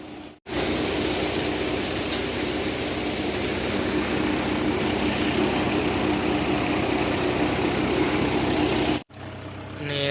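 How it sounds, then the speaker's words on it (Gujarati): A Mahindra tractor engine drives an automatic cumin thresher in a farm field, giving a loud, steady mechanical roar with a dense broadband whir that stays constant for about nine seconds and then cuts off abruptly. "અત્યારે હાલે છે મહિન્દ્રા ટ્રેક્ટરમાં"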